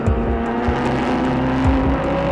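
Race cars accelerate off the start at Fuji in a cold-weather endurance race, a loud, close pack of engines droning and rising in pitch with overlapping revs as they pull away, with no talk over it.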